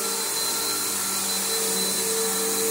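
A Bissell Powerforce bagged upright vacuum cleaner runs steadily with a loud, constant motor whine and airflow hiss throughout, with no one talking.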